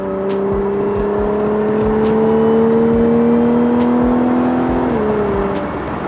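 Supercharged car engine at speed in fifth gear, a steady whine rising over loud exhaust drone, then a single downshift near the end shifts the pitch; continuous and close, no talking.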